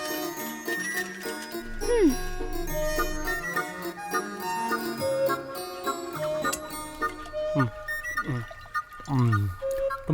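Water being poured in a Hindi film scene, rising gurgling pours near the end under a backdrop of ringing, bell-like music.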